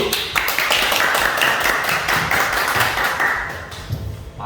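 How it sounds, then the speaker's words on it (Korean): An audience at a forum claps, a crisp burst of many hands that holds steady for a few seconds before thinning out and tapering off near the end. "박수."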